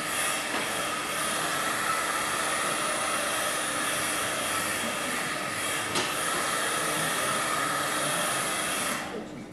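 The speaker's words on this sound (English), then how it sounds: "So I'll just hit it with an air dryer really quick." An air dryer blows over a layer of egg tempera paint, a steady loud whooshing hiss that runs unbroken for about nine seconds before cutting off.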